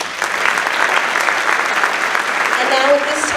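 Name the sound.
audience applause at a school honor society induction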